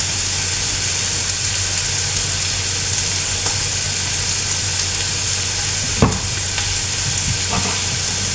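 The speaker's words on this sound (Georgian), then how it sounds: "ეხლა ვწვავ" Meat seasoned with Svan salt and oregano fries steadily in a pan for shawarma, a continuous close sizzle and hiss with a single clatter near the end.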